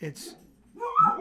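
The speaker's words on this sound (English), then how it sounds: "excuse my dog for barking out there" A dog barks and whines indoors at home, a short yelp-like cry mixed with a brief spoken word.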